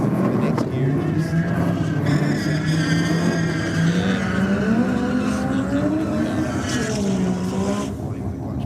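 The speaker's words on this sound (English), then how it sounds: "There is a little bit of wheel spin there" A drag race car accelerates hard at Sydney Dragway with some wheel spin, its engine note rising loud and steady through the gears while a voice talks over it.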